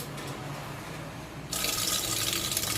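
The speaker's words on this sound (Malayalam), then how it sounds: "3 ഐറ്റംസും ഉണ്ടാക്കാനുള്ള വെജിറ്റബിൾസ് ഒരു വലിയ പാത്രത്തിലേക്കിട്ട് നമുക്ക് ഒന്നിച്ച് കഴുകിയെടുക്കാം." Water pours into a large bowl of vegetables, starting as a low trickle and swelling abruptly into a louder, rushing fill partway through.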